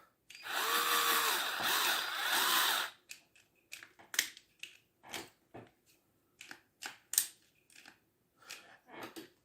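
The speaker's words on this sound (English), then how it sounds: "make sure we got our drill going the right way" A power drill whirs steadily for about three seconds drilling a small hole in a 3D-printed statue, then stops, followed by a series of sharp, scattered clicks and taps nearby.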